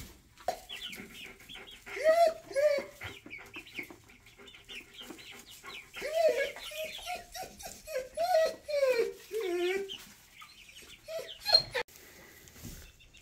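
Barred Rock and Easter Egger hens in a coop give repeated soft clucks and short calls, close and moderately loud, with no talking over them.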